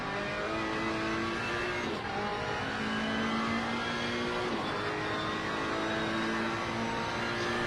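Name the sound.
race cars engines at Brands Hatch, racing video game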